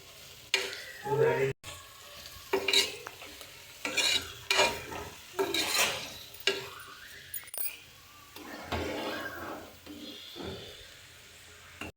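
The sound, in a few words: goat head curry cooking in a pan on the stove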